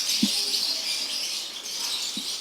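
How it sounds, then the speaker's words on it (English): Caged breeding birds chirp and tweet steadily in a dense high chorus near a busy outdoor relief distribution in Mabalacat, Pampanga, fairly loud with no talk. "Nice chirping going on."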